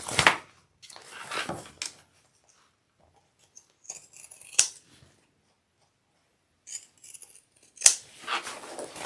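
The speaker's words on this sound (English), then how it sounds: "I'm just going to do some pinking shears around my 2 curves here" Pinking shears trim fabric around the curves of a convertible bag's exterior in several separate bursts of crisp, close crunching snips with short silent gaps between them.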